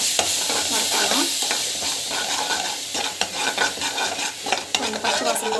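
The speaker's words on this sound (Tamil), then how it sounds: "டமாட்டோ பியூரி வந்து அரைச்சிருக்கேன். ஸோ இதுவும் வந்து இதில் ஊற்றிடலாம். ஸோ இது வந்து பார்த்திங்கன்னா நல்லா வந்து வறுத்துக்கலாம்." Ground tomato puree sizzles and fries in a hot pan while being stirred, a continuous crackling hiss broken by sharp scrapes and knocks of the spoon against the pan.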